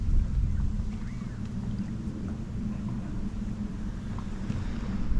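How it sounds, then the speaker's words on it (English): Wind blows steadily past reeds beside a fishing lake in winter, heard through a microphone fitted with a wind muff as a dense, low, rumbling rush with no clear voices. "It's a bit of wind blowing."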